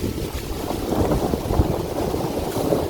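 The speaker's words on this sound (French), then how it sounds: "il y a beaucoup de vent" Strong wind gusting through a mountain storm, a steady broadband roar of buffeting air with rumbling microphone wind noise, loud and continuous with no voices.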